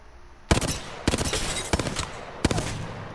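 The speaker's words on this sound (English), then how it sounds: "The Hemlock is a burst weapon, but can also be used as a single fire." Hemlock burst rifle firing in Apex Legends, four sharp bursts of rapid close gunshots spaced about half a second to a second apart, loud and punchy with no talking.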